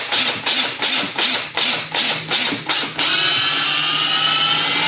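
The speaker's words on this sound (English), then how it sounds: "as you're drilling, the material isn't being excavated fast enough, and it expands" A power drill pulses into a cured resin sculpture of a 1/6 scale Predator figure, about eight rapid rhythmic bursts of high whining grinding, then a steady continuous run, loud and close with no talking.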